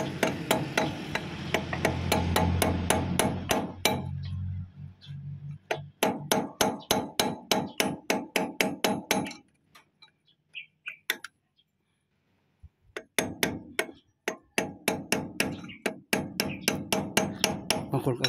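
Sharp metallic taps of a hammer striking a screwdriver while repairing a rice combine harvester's track roller, delivered in quick rhythmic bursts with brief pauses between runs, close and clear.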